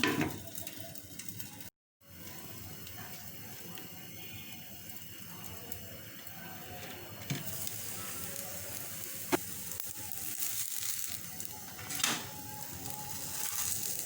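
A quick breakfast snack cooks in a lightly oiled pan after being flipped, giving a steady soft sizzle with occasional light clicks and scrapes, broken by a brief silent gap near the start.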